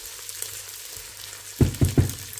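Lentils being stirred into frying onions in a pan for lentil soup: a low sizzle runs throughout, then three sharp scraping stirs come near the end, close and alone with no talking.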